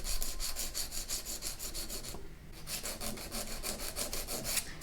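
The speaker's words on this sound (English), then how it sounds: "you are trying to give your nail a shape using your file" A nail file shapes a fingernail during a manicure practical exam in Texas, giving steady, rhythmic rasping strokes close up with a brief pause midway and no talking.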